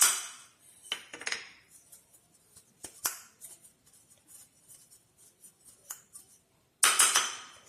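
A buttered metal muffin tin dusted with maida flour is swirled and tilted by hand, producing sparse close clinks and rattling taps with quiet gaps, ending in a louder cluster of metallic knocks.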